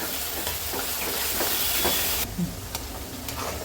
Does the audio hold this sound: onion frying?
yes